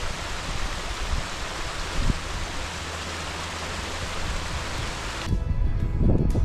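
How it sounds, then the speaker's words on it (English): A small creek and little waterfall flowing out of a mountain lake in the Frank Church River of No Return Wilderness, a steady close hiss of running water, with a few thumps near the end. "So this little creek is the outflow from Crimson Lake. There's a cute little waterfall right there."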